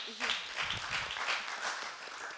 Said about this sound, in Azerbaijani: Alqışlar xahiş edirəm.